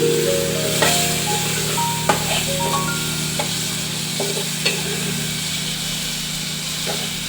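Vegetables frying in a pan are stirred, producing a steady close sizzle with occasional scraping clicks from the utensil over a constant low background hum, no talking.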